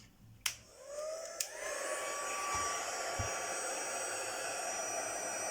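A hair dryer blows to dry watercolor and shimmer dust on photo paper, switching on with a couple of clicks and then roaring in a steady, close, continuous whoosh.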